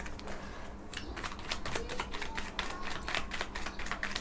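Tarot cards are shuffled close by in a quick, continuous flurry of soft riffling clicks and slaps with no voices.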